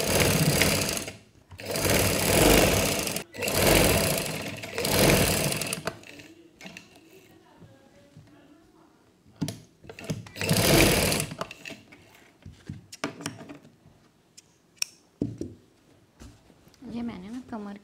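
A sewing machine stitches the waist seam of a baby girl's frock in several loud, close whirring runs separated by pauses, with someone talking between them.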